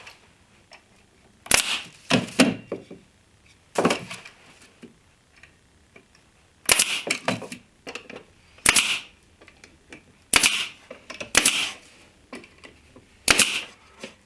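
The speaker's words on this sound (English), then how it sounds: "I'll drive these pins in." Pin nailer driving pins into small wooden boxes, a series of sharp snapping shots spaced irregularly, some in quick pairs, close and fairly loud with quiet gaps between.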